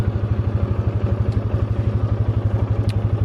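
An ATV engine runs steadily while riding, a loud, close, rhythmic low throb with a fast pulsing beat and slight rattle throughout, no talking.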